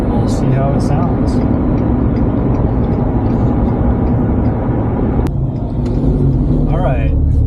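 A 2018 Ford F-150 with the 5.0 Coyote V8, Flowmaster 70 series exhaust and a 3-inch resonator, droning with a steady low rumble from inside the cab as it drives, while a person talks over it.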